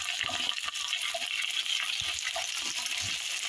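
Celery and pork stir-fry in a hot pan, a bright, steady sizzle broken by scraping and clattering stirs, close by with no voices.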